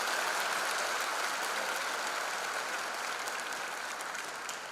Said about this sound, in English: May I request the parents to give a loud applause to the students.